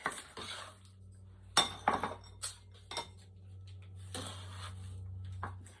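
A knife chopping and mincing onion on a cutting board in a home kitchen, giving a handful of sharp, irregular knocks and clicks close by over a low steady hum.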